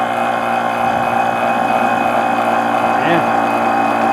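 An air pump inflating a ball gives a steady, unbroken motor drone with a layered mechanical hum that runs the whole time at even loudness.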